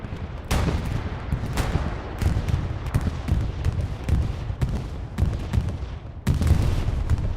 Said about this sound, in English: Bombing run on its way. Oh, it's coming all the way over here.